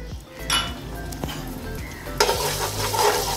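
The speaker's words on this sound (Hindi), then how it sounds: "बहुत कम ही हल्का सा फ्राई करेंगे हम" Ginger garlic paste lightly frying in a pan for rice, a steady soft sizzle with a few scrapes and clinks of a utensil against the pan, close and moderately loud, with no talking.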